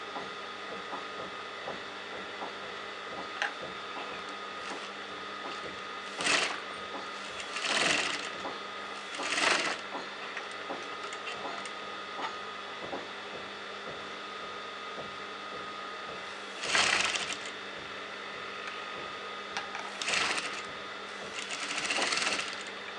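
Sewing machine stitching lace edging onto a folded neckline, running in a steady mechanical whir with several short louder bursts as the stitching speeds up and pauses.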